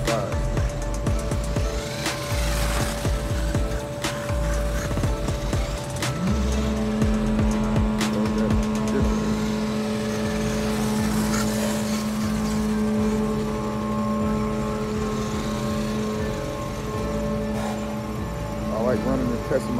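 WLtoys 12428 1:12 scale RC truck driving over a cracked surface at night, a continuous electric motor whine with shifting pitch under rough rattling, loud and close, with a voice talking over much of it.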